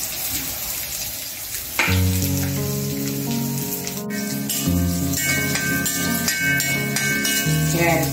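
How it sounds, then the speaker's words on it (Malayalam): Carrots fry in coconut oil on a tava for a carrot chutney, a loud sizzle with a tonal hum that starts about two seconds in, plus scattered crackles and stirring scrapes. "ക്യാരറ്റ് ഒന്ന് നമുക്ക് ഫ്രൈ ആയി വരും"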